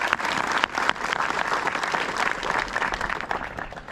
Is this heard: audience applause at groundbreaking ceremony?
yes